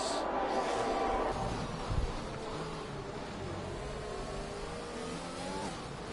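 Racing cars in a video game Formula race at Great Britain, an Aston Martin, two Red Bulls and a McLaren battling for the lead, their engines whining in continuous high revs with shifting pitch and a brief thump midway.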